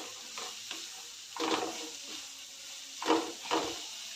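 Spoon stirring coriander powder into ridge gourd curry in a pan: a few soft scraping, clinking strokes in bursts, close and moderately quiet, with a faint background hiss.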